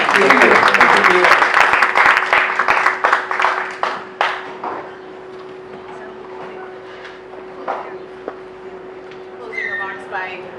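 An audience at a community panel discussion on mental health applauds the panel, a full round of clapping that thins out and fades over about five seconds, followed by a quieter stretch with some speech.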